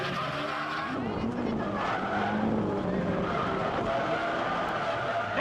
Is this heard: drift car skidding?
yes